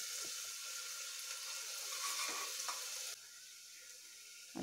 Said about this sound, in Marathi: कढीपत्ता पण त्याच्यातच घालायचा आणि व्यवस्थित फ्राय करून घ्यायचं.